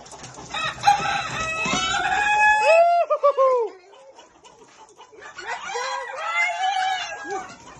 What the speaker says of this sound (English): They're fighting.